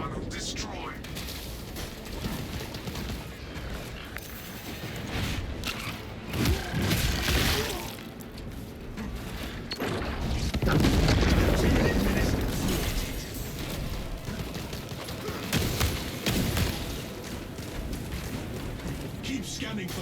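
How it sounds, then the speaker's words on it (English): Melter charges detonate and destroy a hive tunnel in the Space Marine 2 video game, with heavy booming blasts swelling out of a dense, continuous din of battle noise and clanking mechanisms. "Melter charge incoming! Hive tunnel destroyed."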